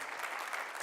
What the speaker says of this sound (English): You guys can applaud that.